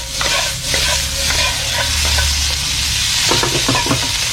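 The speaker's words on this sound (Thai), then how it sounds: "ลงไปเลยนะฮะที่ลวกไปเรียบร้อยนะครับ แล้วก็ผัดผักนะให้หอมก่อนนิดนึงนะครับ" Blanched mixed vegetables stir-fry in a hot pan, a loud close sizzle punctuated by repeated quick scrapes and clatters of a spatula tossing them, no voices.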